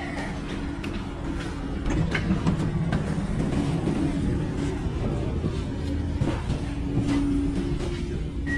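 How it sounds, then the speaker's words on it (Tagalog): Passenger train ride in Germany near Stade, a steady low rumble of the carriage with faint rattles and clicks filling the space, no one speaking. "Nandito na tayo ngayon sa train."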